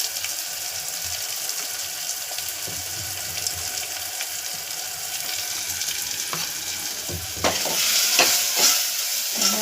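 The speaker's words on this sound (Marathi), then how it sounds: "आपला बघा मसाला भाजत आलेला आहे." Turmeric, coriander powder and homemade chilli powder roast in a hot pan with a steady close sizzle and scraping stirs, the frying growing louder and crisper near the end.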